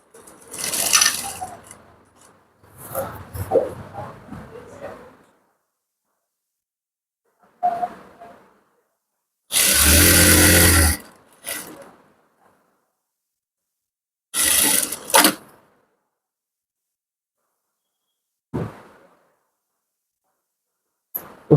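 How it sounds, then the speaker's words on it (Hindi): A sewing machine stitches over the pocket of a ladies' pant in short separate runs, each a loud mechanical whirr lasting one to three seconds, divided by silent pauses and faint handling noises, with no voices heard. "फिर इसके बाद इसके ऊपर सिलाई लगा लेंगे।"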